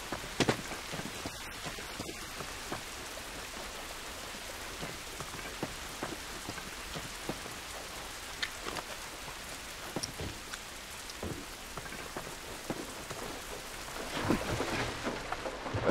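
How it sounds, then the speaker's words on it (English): Steady rain patters hard on surfaces during a stormy scene in The Last of Us on PS3, with scattered sharp drops and a swell of rumbling thunder near the end. "rain ain't gonna do us any good."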